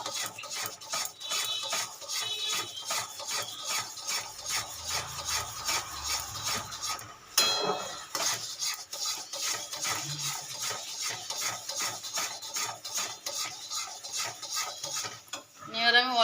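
A spatula mashes boiled, softened masoor dal in a pot for sour mango dal, giving continuous close rubbing and scraping strokes with a steady rhythm, no talk.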